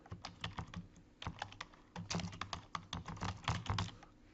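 Rapid, uneven typing on a computer keyboard, close and clear, with bursts of clacking keystrokes and short pauses in between while text is entered into a Windows Forms program.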